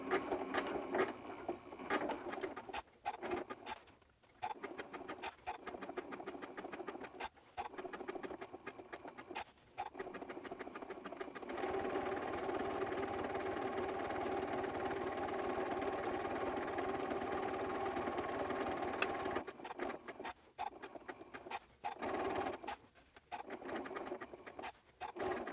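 Close sewing machine stitching a pumpkin wall hanging in rapid bursts that break off and restart, with one long steady run in the middle, and no talking.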